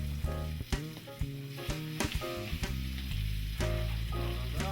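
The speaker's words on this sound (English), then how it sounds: "we can add our first group of pork chops and begin browning." Pork chops browning in a hot pan, seasoned side down, with a steady close sizzle punctuated by sharp clicks and knocks of the pan and utensils, no voices.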